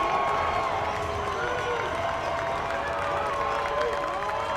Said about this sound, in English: Now the crowd getting up, trying to get behind the Golden Eagles of Charleston